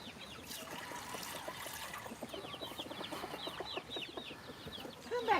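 Oddly colored backyard chickens cluck repeatedly at close range, with a rooster-like call and a trickle of water filling their waterer underneath; no talk.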